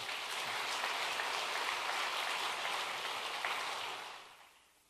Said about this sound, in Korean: 우리 목사님 나오실 때 힘찬 박수로 하나님께 영광을 돌리며 환영하겠습니다